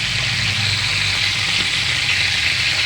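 Fish frying in a pan for escabeche, a steady broadband sizzle that holds evenly throughout at close range, with no voices over it.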